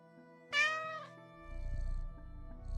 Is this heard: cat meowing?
yes